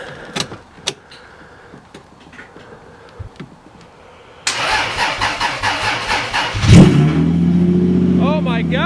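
A Lexus IS300 project car is started after sitting for a long time: the engine cranks and catches about halfway through, then settles into a loud, rough idle with a brief rev. Quiet clicks and small movements come before it.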